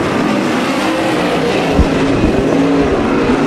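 Several race cars roar together around Bakersfield Speedway during a heat race, engines droning steadily and loudly with brief surges as cars pass, no voices over the noise.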